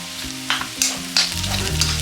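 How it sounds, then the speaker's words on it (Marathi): Peas and potatoes frying with turmeric in a pan: a close, loud sizzle broken by several sharp scraping stirs, with no voices. "परतून घेऊया 1 मिनिट"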